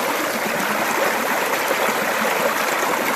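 Creek water on the East Fork of the San Gabriel River at Heaton Flats runs at low flow through a gold-prospecting sluice box, a steady, close, continuous rushing trickle with no voices.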